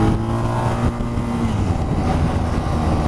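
2019 BMW R1250GS motorcycle accelerating, engine note rising quickly in pitch under heavy wind buffeting, loud and close for a few seconds.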